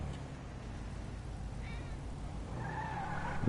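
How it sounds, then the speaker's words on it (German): Inside the video game GTA 5, a cat gives a couple of faint, short meows over a constant low rumble of car engine noise, with no one speaking. "Wo sitzt die Katze hin?"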